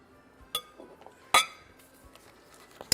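A spoon presses Hatay çökelek cheese down into a glass jar, giving three sharp glassy clinks spaced about a second apart, the middle one loudest, over a quiet kitchen background.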